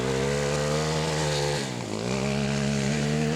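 A BMW F800GS or HP2 motorcycle engine revs hard and steadily, rising in pitch, dipping briefly mid-way and then climbing again, loud and close with no talking.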